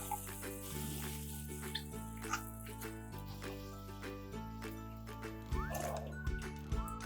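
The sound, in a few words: sugar and soy sauce added to a pot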